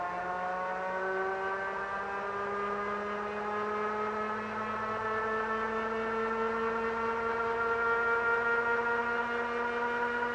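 Steady whine of a 1000 watt ebike motor running in second gear, a continuous tonal hum with several harmonics that slowly rises in pitch as it spins up, loud and close, with no talking.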